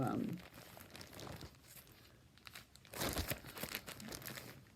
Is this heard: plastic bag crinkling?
yes